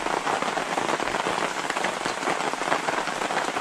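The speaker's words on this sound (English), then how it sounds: "And it rains." Rain falls steadily at the Lake Eaton campsite in the Adirondacks in autumn, a dense continuous patter of drops on a nearby surface, close and even, with no talking.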